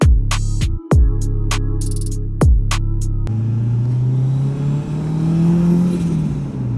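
Turbocharged Acura TSX fitted with a Precision turbo, heard from inside during a ride along: steady engine drone with gear-change breaks, then a smooth rising pull under boost, loud and close.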